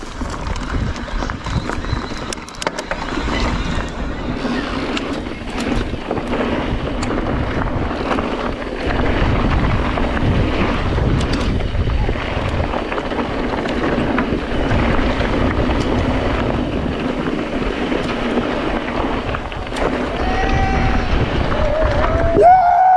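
An enduro motorcycle rides over rough ground with constant heavy wind buffeting the microphone, a dense, loud roar of engine and rushing air with rattles and thumps, sustained throughout with a brief dip early on.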